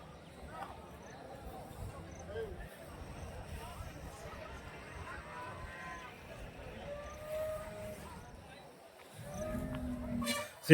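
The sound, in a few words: water buffalo at cattle market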